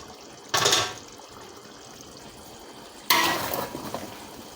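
Meat for jollof rice is turned in a pot of boiling, steaming water, giving two short bursts of sloshing and clattering against the pot separated by a quiet stretch.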